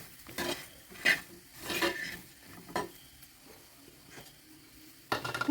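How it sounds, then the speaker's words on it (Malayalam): Spoon stirring eggplant curry in a pan with fenugreek, onion and curry leaves, giving a run of scraping, clattering strokes against the pan over a soft sizzle, close and moderately loud, with no one talking. "ഒന്ന് ഇളക്കി കൊടുക്കാം"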